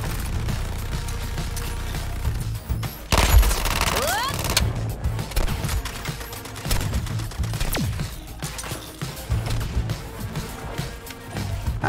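Gunfire aimed at a sniper in the video game Suicide Squad: Kill the Justice League, with rapid bursts of shots and a loud blast amid dense, chaotic combat noise, sustained and close throughout.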